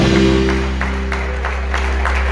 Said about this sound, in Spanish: Dele palmas al que vive y reina por los siglos de los siglos.